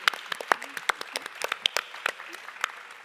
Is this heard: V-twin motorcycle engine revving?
no